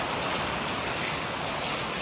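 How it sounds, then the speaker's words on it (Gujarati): Rain falls steadily in a continuous, even hiss that fills the short stretch without a break. "આ તમે વરસાદ જોઈ શકો છો"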